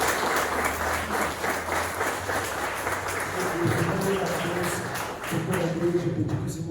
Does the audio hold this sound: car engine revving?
no